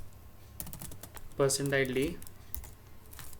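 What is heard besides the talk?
typing code on a computer keyboard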